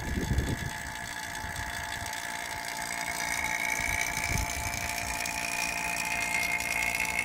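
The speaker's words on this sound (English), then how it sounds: "We wanna let this vacuum pump run for at least, I don't know, 20 minutes, if not half an hour" A vacuum pump hooked to a mini split line set runs with a steady mechanical whine and hum, continuous and fairly close, with a few clicks at the start.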